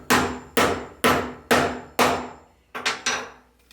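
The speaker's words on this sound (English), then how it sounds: "Just hold that on the setting tool like that and use a hammer on this side." Hammer blows on a rivet setting tool, fixing a rivet into a rounded body for a Traxxas Bigfoot RC truck: seven sharp, ringing strikes, the first five evenly spaced about half a second apart, then a quicker pair and a final hit.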